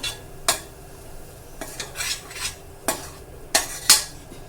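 Cauliflower and peas stir-fried in a pan, with a spatula scraping and knocking against the metal in irregular sharp strokes over a faint background sizzle.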